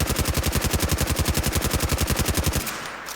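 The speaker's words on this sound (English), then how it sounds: "We're going to unload a whole magazine." Light machine gun from Fallout New Vegas firing 5.56 rounds in Fallout 4, a steady rapid burst of about thirty loud even shots emptying a magazine, then cutting off into a fading tail.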